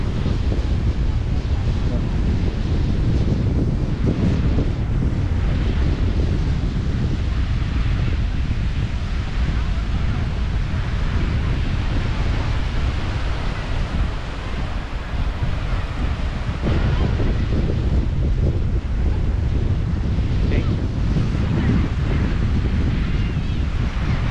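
Constant heavy wind buffets the microphone on a beach with dredging work nearby, with the steady wash of sea waves rolling underneath throughout.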